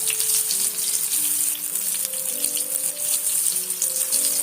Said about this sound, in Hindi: अच्छे से मैं फ्राई कर लूँगी। यहाँ पे देखें अच्छे से टिंडे जो हैं वो फ्राई हो चुके हैं।